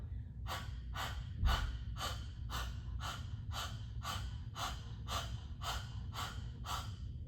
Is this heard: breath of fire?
yes